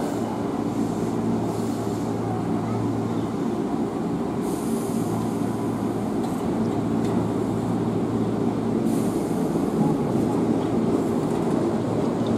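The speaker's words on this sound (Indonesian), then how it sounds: "Jalur 13 tujuan stasiun Bogor persiapan diberangkatkan." KRL commuter line electric train at an elevated station in Manggarai, a continuous loud rumble of wheels on track with faint squeals and clatter from the carriages, no speech audible over it.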